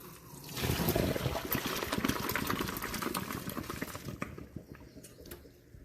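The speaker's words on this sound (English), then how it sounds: "now that the Kraft dinner is done cooking, we have to drain the water" Hot water pours out of a pot of cooked Kraft Dinner macaroni as it drains, a steady close splashing trickle that tapers off toward the end, quiet with no voices.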